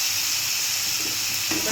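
Potatoes fry in hot spiced oil in a pan, a steady bright sizzle and hiss that holds throughout, with a slight stirring shuffle near the end.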